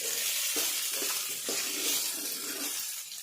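Crushed garlic cloves sizzle steadily in hot oil in a pan, a continuous bright frying hiss with soft stirring knocks, close and fairly loud, with no voices.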